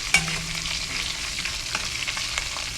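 Food frying in a pot for a Haitian rice dish with turkey, a steady broadband sizzle running the whole time with occasional stirring clicks, close and alone with no voices.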